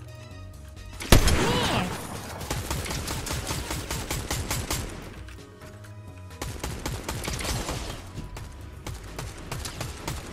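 The Frenzy Auto shotgun fires in Fortnite in a rapid, steady string of close, loud blasts that opens with a strong first hit, pauses briefly, then resumes. A voice speaks once over the firing.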